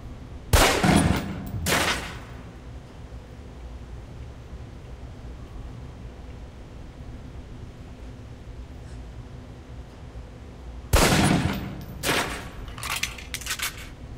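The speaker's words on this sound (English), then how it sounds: "Equip the pistol, then aim down range and take some shots at the target." Pistol fire at a target on a firing range in Alpha Protocol, loud sharp reports in two bursts, a couple of shots early and a quicker cluster of several shots near the end, separated by a long stretch of quiet room tone.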